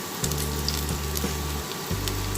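Onion pieces frying in hot oil in a pan, a steady close sizzle with a low continuous hum underneath that cuts out briefly near the end.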